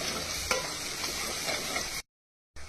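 Turmeric, cumin and coriander powders being fried and stirred in a pan, giving a steady, loud sizzle with soft scraping, then a brief silence before the sizzle returns.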